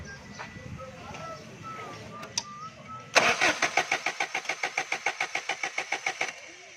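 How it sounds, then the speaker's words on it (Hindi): A Suzuki Cultus with a misfiring ignition fault starts after a few quiet seconds, then runs with a loud, regular pulsing beat close by. "अब यूँ इधर ही गाड़ी को हम स्टार्ट करेंगे।"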